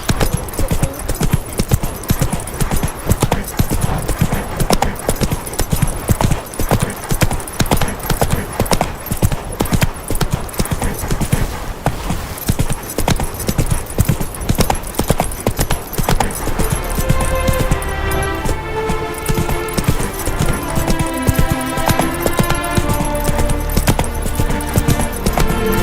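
The horse Roach galloping in the video game The Witcher 3: loud, fast, rhythmic hoofbeats pound continuously and close up, with game music rising in the background.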